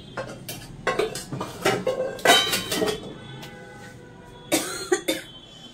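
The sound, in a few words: washing dishes, pots and utensils clattering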